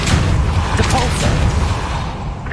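In Hogwarts Legacy, the Depulso spell releases a loud, close magical blast with a booming, rumbling burst and a dense crackling wash that slowly fades.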